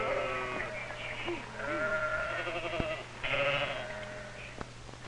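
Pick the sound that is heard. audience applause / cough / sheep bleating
sheep bleating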